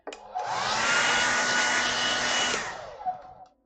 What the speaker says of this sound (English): this is my main concession is my hairdryer because I use the heck out of it